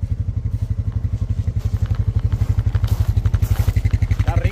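Quad bike (ATV) engine idling and pulsing while riding through an Arizona creek, a close rhythmic low throb with splashing and clatter on top.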